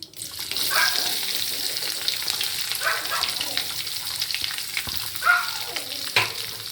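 Shallots frying in a pan sizzle with a steady, close hiss, and brief stirring and scraping sounds break through now and then.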